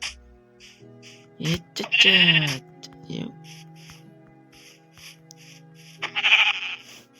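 Sheep bleat a few times in bursts between stretches of quiet, with a faint repeating electronic tone underneath, in the video game Minecraft.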